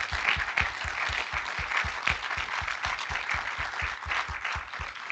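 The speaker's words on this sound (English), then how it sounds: "I hope that we can give a big round of applause to our panelists today." Steady applause from a town hall audience for the panelists, dense clapping sustained at even strength throughout, with a low rhythmic thump underneath.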